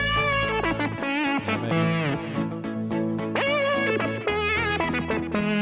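A bright synth lead plays a winding solo over a steady, fat bass line and chordal backing, loud and continuous throughout.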